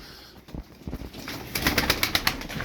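Yellow SarıKır tumbler pigeons, flown early in the morning, move about near a loft while searching for feed, with soft wingbeats and light scuffling building into a run of sharp, regular flaps toward the end.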